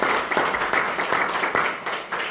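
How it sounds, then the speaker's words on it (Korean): A church congregation claps during a Korean sermon, a fairly quiet, uneven burst of many hands with a loose rhythmic pulse. "박수로 영광을 돌리겠습니다."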